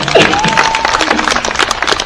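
A lively crowd in Honolulu, Hawaii claps and cheers loudly up close, a fast irregular patter of many hands with whoops and voices mixed in.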